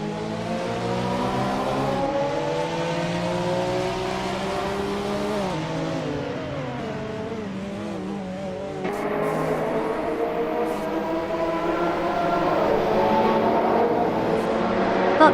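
Race cars in a racing video game roar continuously up close, engines revving and shifting through rising and falling tones, with the pitch jumping as another car takes over.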